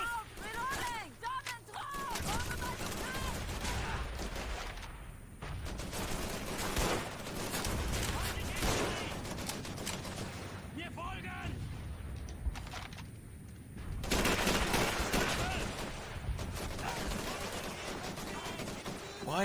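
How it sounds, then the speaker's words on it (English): Soldiers exchange gunfire in the Call of Duty 3 video game, with continuous bursts of rifle and machine-gun fire and a loud, busy battle din that runs throughout, while a voice talks over it at times. "Why are they not shooting the people that are closest to them?"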